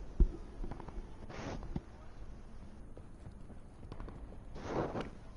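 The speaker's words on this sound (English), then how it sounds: "Footsteps." Footsteps in the video game Call of Duty Blackout, a run of quiet, steady thuds heard against a hiss of background noise, with one sharper knock near the start.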